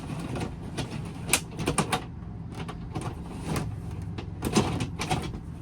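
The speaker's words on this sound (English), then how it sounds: "Now, when you're sliding your door out," A sliding door in a used 2021 Keystone Springdale 32THS toy hauler RV rolls along its track, with a steady rumbling slide punctuated by several sharp knocks and clacks close by.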